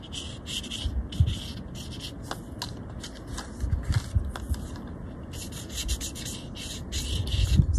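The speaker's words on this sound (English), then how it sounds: "So I am just rubbing this out exactly the same way I would handle graphite." An eraser rubs back and forth over a pencil or graphite drawing to smooth the surface, producing soft, close scrubbing strokes in irregular bursts with brief pauses between them.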